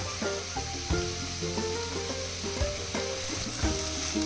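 Vegetables for Kerala mezhukkupuratti frying in hot oil with no water added, a loud dense sizzle broken by repeated spatula scrapes and knocks against the pan.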